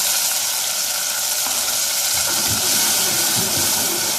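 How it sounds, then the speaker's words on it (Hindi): Water with dissolved dry spices is poured over browned onions in a hot pan for a red bean curry. A loud, steady hiss and sizzle continues throughout, with a few soft stirring knocks toward the end. "ये प्याज जो है जब ब्राउन हो गई तो मैंने वही ड्राई इंग्रेडिएंट्स सारे पानी में घोल के ये डाल दिया।"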